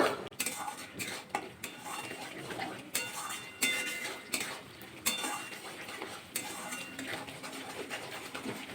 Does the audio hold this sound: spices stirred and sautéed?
yes